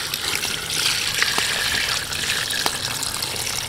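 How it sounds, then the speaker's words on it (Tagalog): Water pours steadily into a cooking pot being readied for seafood soup, making a continuous close gushing and splashing sound with no talk. "Lagyan na natin siya ng tubig."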